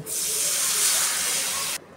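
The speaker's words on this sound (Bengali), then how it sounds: "এখন আমি একটু পানি দিয়ে দেব।" Water hits a hot pan of frying dried loitta (Bombay duck) fish and spices, setting off a loud, close, steady sizzling hiss that lasts under two seconds and then cuts off sharply.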